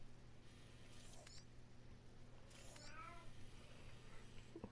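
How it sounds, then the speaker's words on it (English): A cat meows loudly in Death Stranding, two distinct drawn-out calls a second or so apart, heard over a low steady hum of game ambience. "Oh man, that cat's annoying. The cat is loud."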